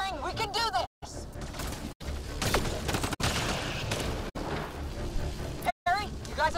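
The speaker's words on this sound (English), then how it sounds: "Just keep firing, we can do this!" Gunfire and combat noise from the video game Mass Effect Andromeda, bursts of shots and mechanical clatter layered under excited shouting voices, broken by several short silent gaps.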